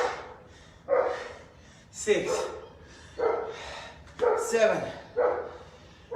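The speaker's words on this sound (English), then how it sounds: "apart from that dog across the road" A dog across the road barks repeatedly in evenly spaced, moderately loud bursts heard at some distance, while a fitness instructor counts and talks over it during a live workout.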